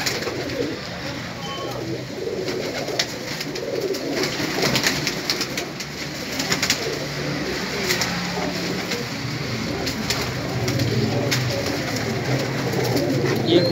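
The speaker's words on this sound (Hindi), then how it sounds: "ये काला अबरा कबूतर है, काला अबरा, ये अबरे होते हैं, पुरानी नस्ल का कबूतर है ये" Pigeons coo continuously inside a pigeon shop that keeps birds including black Abra pigeons, an old breed. Soft, overlapping calls and wing flutters fill the space at close range, with faint background voices.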